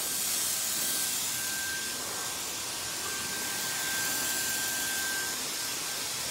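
A hair dryer blows steadily while hair is dried forward over a round brush during a layered bob haircut, a constant airy hiss with a thin whine, even and unbroken throughout.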